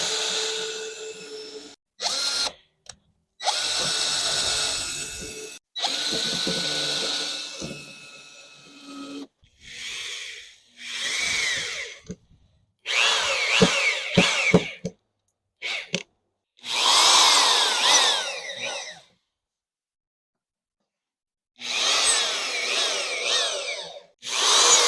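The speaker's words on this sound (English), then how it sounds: "I'm going to pre-drill the holes before I put the nails in because it helps it go in faster." A power drill whirs in repeated bursts of a few seconds each, pre-drilling nail holes in plywood, loud and close, with pauses of silence between them.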